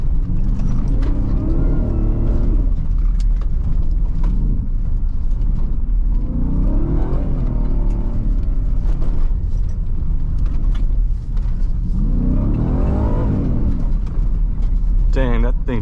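A 2024 Ford Raptor R's engine surges and revs repeatedly on an off-road drive, with rising and falling pitch sweeps over a constant rumble of tires and cabin noise, loud and close throughout.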